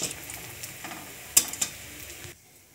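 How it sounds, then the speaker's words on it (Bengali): Cauliflower pakora frying over low heat, a soft crackling sizzle with scattered stirring clicks and one sharp metallic tap near the middle, before the sound drops away abruptly near the end. "তারপর হালকা আঁচে আমি এটিকে ভালো করে ভেজে নেব।"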